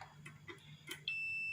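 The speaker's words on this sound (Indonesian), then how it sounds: "ini ada bunyi bip, itu tandanya elemen ini masih bagus" A multitester gives a steady continuity beep while testing a rice cooker heating element, preceded by faint handling clicks and starting suddenly near the end.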